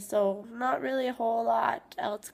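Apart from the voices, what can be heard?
No everyday noise stands out behind the speech.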